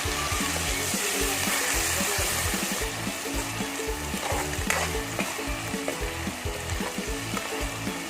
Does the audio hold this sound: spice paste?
yes